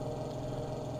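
Aircraft fuel booster pumps running in a BAC 1-11 flight simulator, a steady low electrical drone and hum, quiet and unbroken.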